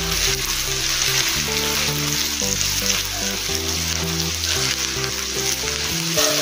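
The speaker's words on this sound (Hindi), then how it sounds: "मिक्स कर लेंगे और थोड़ा सा इसको भूनेंगे अदरक को।" Coarse ginger paste sizzles and fries in a pan while being stirred, a steady close-up crackle joined by scraping, with music playing underneath and no talk.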